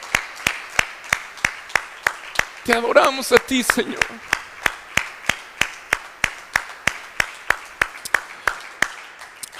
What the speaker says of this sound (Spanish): Vamos, aplaude al Señor.